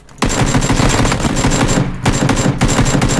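Automatic rifle fire in a PUBG match, rapid dense bursts of shots, loud and close, with one brief pause before the firing resumes.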